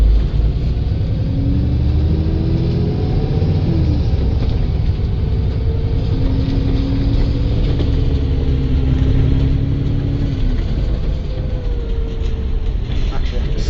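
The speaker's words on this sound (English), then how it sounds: "Just listen to the engine sounds." Enviro300EV bus engine in a Roblox game, a steady mid and low drone with slowly rising and falling whine tones as the bus pulls away, continuous and fairly loud throughout with no talking.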